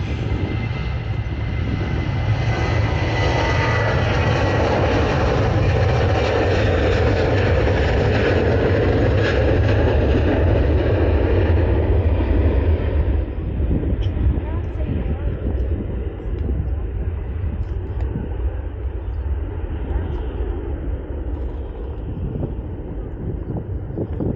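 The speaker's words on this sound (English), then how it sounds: "the Ryanair 737-800 on her way to Dublin is now on a takeoff roll" A Ryanair Boeing 737-800 rolls for takeoff at Manchester Airport, its broad jet roar loud and sustained, then easing as it draws away, with wind buffeting the microphone and a voice speaking over it.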